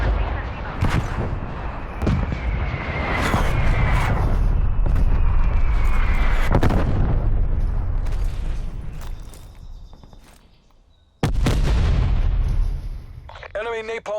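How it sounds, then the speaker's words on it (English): Heavy artillery barrage explodes in a shooter video game, deep booming blasts rolling and overlapping for several seconds before fading, then another loud impact; a voice briefly speaks over it. "Artillery barrage"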